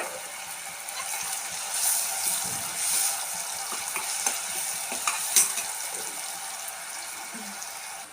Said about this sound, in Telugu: కొంచెం పప్పు కూడా వేసేస్తున్నాను అందులోనే